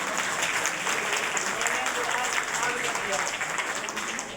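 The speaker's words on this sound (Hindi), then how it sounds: "पहले तो तालियां बजाओ इनके लिए।" Audience applause for artists receiving certificates on stage at a commemorative anniversary event, a steady wash of clapping that fills the whole stretch, with a voice speaking faintly over it.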